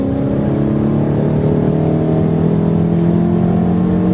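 A race car engine drones steadily and loudly at high revs on a track, a continuous close-up roar from inside or near the vehicle with no break.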